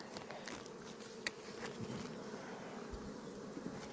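Honey bees drone at a highland hive during an inspection, a soft, continuous buzzing hum with occasional louder passes as single bees fly close.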